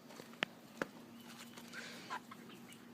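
Chickens being fed corn let out a few faint, scattered clucks and short calls, with two sharper sounds near the start, all over a low, quiet background.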